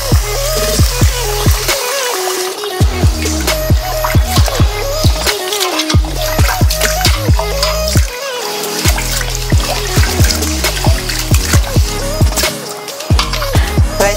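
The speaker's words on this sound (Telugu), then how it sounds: "ఒక 2-3 టైమ్స్ క్లీన్ చేసుకోవాలి" Rice being rinsed by hand in water, swished and drained over and over, with loud splashing and trickling bursts in a repeating rhythm, close up and without talk.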